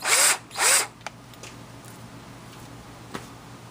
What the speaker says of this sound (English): So now we're just going to prepare to countersink it